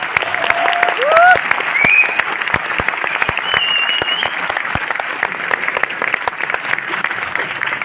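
An audience gives loud, sustained applause at a success celebration in Noida, a dense stream of claps running throughout with a few faint whistles or voices near the start.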